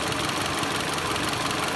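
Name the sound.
car engine running rough with injector disconnected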